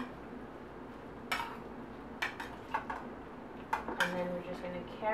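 Seasoning of salt and pepper being mixed into sweet potato filling with a utensil, giving a few sharp scrapes and clinks against a dish over a quiet kitchen background.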